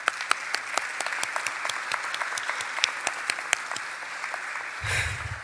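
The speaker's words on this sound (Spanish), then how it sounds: "Aplausos para ellos" Scattered applause at a Peruvian public event honoring labor union leaders, a sparse run of individual claps fairly close, ending with a brief low thump.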